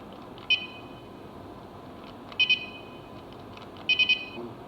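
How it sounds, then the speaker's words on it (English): An electric scooter, the Alien Rides Extreme Bull K4 7000-watt model, gives short electronic beeps for its speed modes, first a single beep, then a double, then a triple, each one brief and clear above a steady background hiss. "3 taps on the green button let you change speed modes. There are 3 modes. 1 beep for slowest, 2 beeps, then 3 for fastest."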